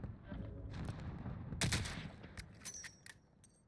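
Gunfire in Call of Duty Warzone, a few sharp cracks and a short burst of rapid shots over a low rumbling background, moderately distant, with no talk over it.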